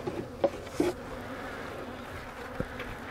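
A small, weak honeybee swarm gives a faint, steady low hum close by during hive work, with a few soft knocks and bumps over it.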